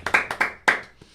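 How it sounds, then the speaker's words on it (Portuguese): A small group in a podcast studio claps a few sharp, close hand claps in quick uneven bursts, fading out after about a second. "Uma salva de palmas para ele."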